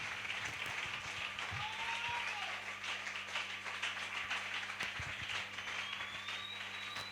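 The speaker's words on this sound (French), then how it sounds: "maintenant tu peux acclamer encore pendant que tu es assis" A church congregation seated during a service, applauding and cheering in a steady wash of clapping that fills the room, with a low electrical hum beneath and a few faint voices and exclamations mixed in.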